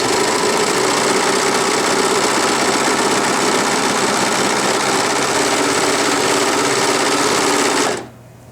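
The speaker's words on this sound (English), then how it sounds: "So let's do just a quick serge here. You can see how the machine operates." A Bernette B44 serger overlock machine stitches stretchy fabric with a loud, steady, fast mechanical hum and buzz, running continuously up close for about eight seconds before stopping abruptly.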